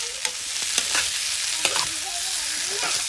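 Mixed vegetables frying in a pan, a steady sizzle under sharp scraping strokes of a spatula stirring at irregular intervals.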